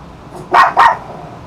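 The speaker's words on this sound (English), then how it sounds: "my dog's barking as soon as I get on stream" A pet dog at home gives two quick, loud barks in close succession, nearby and with no other sound.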